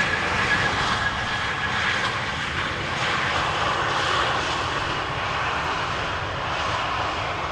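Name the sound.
TAP Air Portugal airliner at Amsterdam Schiphol Airport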